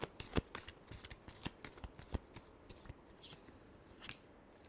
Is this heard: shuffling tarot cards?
yes